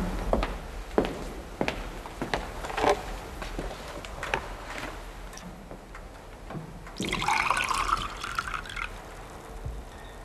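Tap water runs and splashes from a faucet, a soft dripping and trickling that swells into a louder pour near the end.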